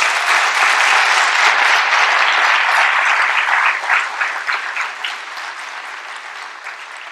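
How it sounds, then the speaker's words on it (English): A large audience gives the staff a rousing round of applause at a college presidential inauguration, dense clapping that holds strong for several seconds before gradually thinning and fading. "Would you give the staff a rousing round of applause?"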